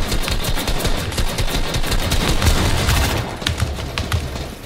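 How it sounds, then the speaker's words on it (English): Rapid gunfire from the Fortnite video game during a token wager match, dense bursts of shots crackling continuously with sharp transients throughout, loud and busy with no pauses. "Yeah, this kid is shooting everywhere."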